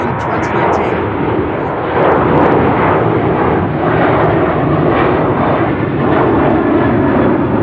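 Airbus A350 jet in a special pink-and-blue livery, six years old, at Amsterdam Schiphol Airport, roaring loud and close with a steady broadband engine rush that swells slightly after two seconds and holds throughout.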